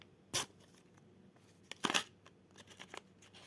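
A Roblox collectible packet is torn open in two sharp crinkly rips, followed by softer rustling and crackling as the foil is handled, close and fairly quiet, with no talk.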